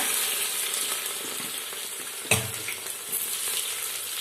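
Crushed garlic with curry leaves sizzles in oil in a clay pot for a village-style fish curry, a steady close frying hiss with one sharp knock partway through and stirring sounds, no voices.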